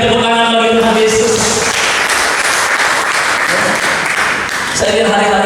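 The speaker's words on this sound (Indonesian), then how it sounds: "Berikan tepuk tangan bagi Tuhan Yesus" Church congregation applauding for Jesus during a Sunday service, a dense, steady wash of clapping filling the room throughout, with musical tones from a keyboard sustaining underneath at the start and end.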